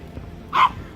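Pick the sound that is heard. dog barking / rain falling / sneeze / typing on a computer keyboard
dog barking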